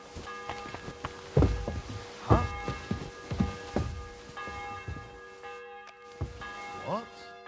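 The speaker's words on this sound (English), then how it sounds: "The bell's ringing for Hans the 5th time." A church bell tolls in Kingdom Come: Deliverance II, its long ringing tones hanging in the background while footsteps and thumps sound close by and brief voice-like bursts rise over it.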